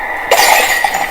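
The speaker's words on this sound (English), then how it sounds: "I heard the window shatter" A window pane shatters in one sudden loud crash, followed by a bright spray of tinkling glass fragments that rings on briefly.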